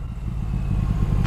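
A 2020 Triumph Thruxton RS motorcycle engine pulls steadily in third gear from low revs, a continuous deep rumble holding level and loud throughout with no voices.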